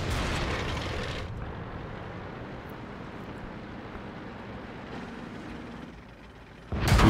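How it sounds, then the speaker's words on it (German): A World of Tanks tank takes an enemy shell hit on the T49 test server: a loud broadband blast opens the clip, a long rumbling battle wash follows, and a second sharp impact bursts in near the end. "Hier kassieren wir natürlich einen Schuss von ihm"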